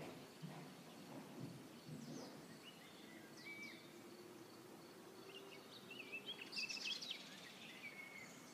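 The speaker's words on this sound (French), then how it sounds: "le tonnerre a repris un petit peu." A weak storm near Amboise gives faint, low rumbling of distant thunder under quiet rain, with a few bird calls and insect chirps breaking through the soft background.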